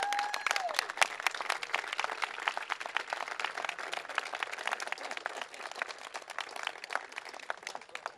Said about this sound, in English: she needs a huge round of applause